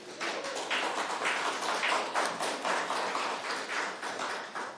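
Steady rhythmic clapping from an audience at a Tacoma city council meeting, a run of even hand claps lasting several seconds at moderate loudness with no talk over it.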